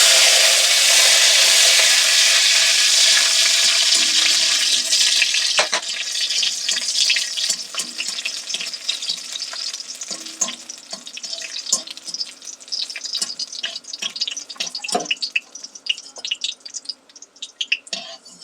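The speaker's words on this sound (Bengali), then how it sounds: "এবার এখানে কিশমিশগুলোকেও ভেজে নিচ্ছি" Raisins frying in hot oil while making chira pulao at home: a steady loud sizzle that fades into scattered crackles and pops, with no talking.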